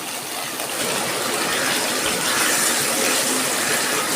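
A little water poured into spice paste frying in a pan, with garlic, onion and coriander-cumin paste, giving a steady broad hiss and gush that swells after a brief start and carries on alone.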